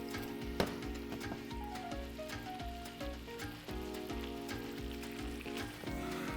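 Continuous crackling sizzle of ricotta gnocchi frying in brown butter in a pan, with occasional faint knocks and shifts as they are tossed, no voices.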